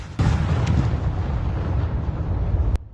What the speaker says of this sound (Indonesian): Ledakan itu terjadi saat kegiatan pemusnahan amunisi tidak layak pakai oleh militer.